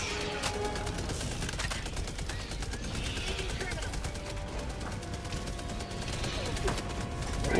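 Gatling turrets in the video game Helldivers 2 fire rapid, continuous bursts of gunshots in a battle against Terminids, a dense crackling barrage with sharp individual reports that grows heavier toward the end.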